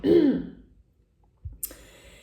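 A single throaty throat clearing, followed after a brief pause by a short cough, close and fairly loud with no talking.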